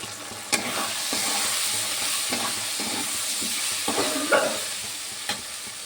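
Potatoes and spices with ginger, garlic, tomato, turmeric, cumin and chilli powder sizzle in a pan for ghugni, under a continuous hiss of frying oil broken by repeated spoon scrapes, close and fairly loud.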